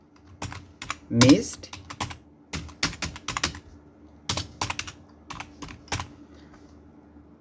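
Keys clatter on a computer keyboard in short bursts of typing while filling in a government freelancing course registration form, with someone speaking briefly between the keystrokes.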